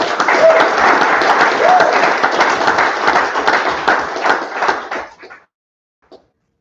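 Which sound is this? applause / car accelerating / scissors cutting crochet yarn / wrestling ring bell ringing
applause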